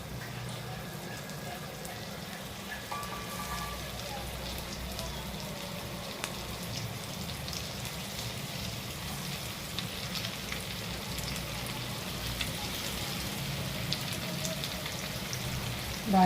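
Halwa roasts over low heat in a hot pan, a steady close sizzle and fry crackle running throughout without pause.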